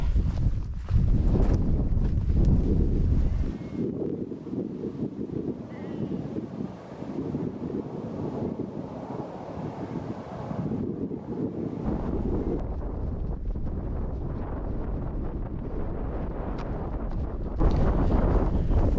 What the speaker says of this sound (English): still a bit breezy. Hope you can hear me.